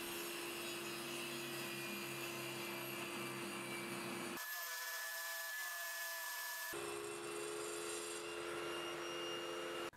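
Power tools working wooden workbench boards, a planer straightening them and a saw cutting them to size, loud and continuous with a harsh broadband roar that shifts character partway through, with no talk.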